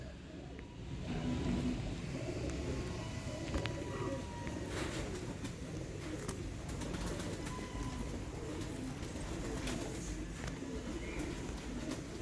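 Sialkoti Ali-wale pigeons coo in soft, repeated throaty calls, fairly faint against a steady background of distant road traffic.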